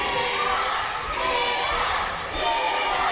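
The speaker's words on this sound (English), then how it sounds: "You hear the crowd chanting Hiro as he fights back to his feet" Wrestling crowd at a Lucha Xtreme match chanting for Koto Hiro, a dense, loud roar of many voices sustained throughout with slight swells and dips.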